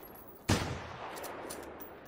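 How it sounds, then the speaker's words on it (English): A single sharp gunshot from the video game Generation Zero cracks out loud and close, followed by a long, fading reverberant tail. "I shot something."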